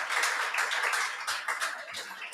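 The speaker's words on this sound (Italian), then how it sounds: "ringrazio Andrea Martella, potremmo anche fare un applauso, sì, grazie." Audience applause at the close of a PD and Lega political debate on the future of Veneto, a steady dense patter of many hands clapping close by, with faint talk mixed in.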